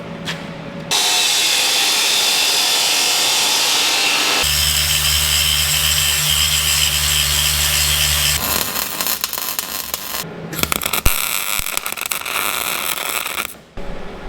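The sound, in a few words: cutting a strut for a fire truck cannon install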